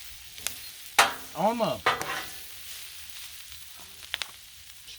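Collard greens sear on a Blackstone griddle with a soft, steady sizzle, broken by sharp scraping and clattering strokes of a spatula as they are stirred; a voice speaks briefly.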